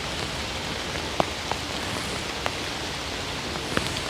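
Heavy rain pours down over a trail near a homeless camp in Alaska, a steady broadband hiss with a few louder drops striking nearby.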